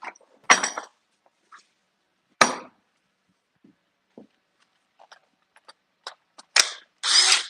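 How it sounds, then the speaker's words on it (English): A cordless power drill running on a freshly swapped battery buzzes in several short, loud, close bursts separated by quiet gaps, with faint small clicks and taps in between. "the battery's running down on this drill, so I gotta get new battery"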